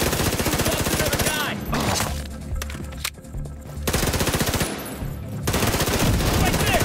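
Rapid automatic gunfire from The Division 2 on PS4 rattles loud and close in long rhythmic bursts with two short pauses, with faint game voices underneath.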